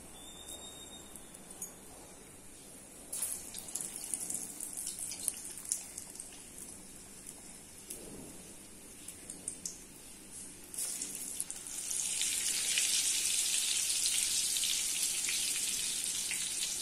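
Rasa vadai batter is patted out and dropped into hot oil, a soft sizzle that grows into loud, bubbling crackling frying near the end, with scattered clicks and taps of handling along the way and no talking.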